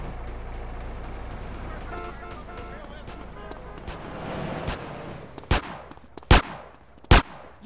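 Gunfire in Grand Theft Auto: San Andreas during the High Stakes Low-Rider mission: three sharp, loud shots spaced about a second apart near the end, following a rumbling stretch of game engine noise and background voices.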